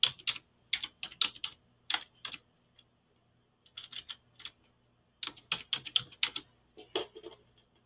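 Typing on a computer keyboard, close, crisp key clicks in short irregular bursts separated by brief pauses, with no talking.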